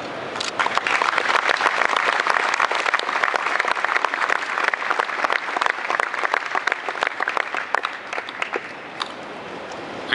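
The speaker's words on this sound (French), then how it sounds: "je crois qu'il mérite des applaudissements" Lively audience applause at a Citroën press conference at the motor show, crisp individual claps within a dense, energetic wash that tapers off toward the end.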